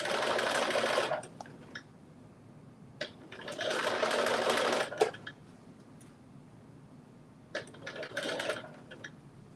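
A sewing machine stitches through thick fabric darts in three bursts of fast, close whirring, separated by quiet pauses with faint handling noises.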